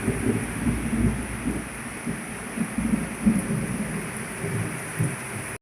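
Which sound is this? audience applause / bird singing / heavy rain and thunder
heavy rain and thunder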